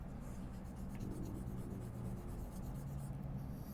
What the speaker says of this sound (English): So I'm gonna erase this by the way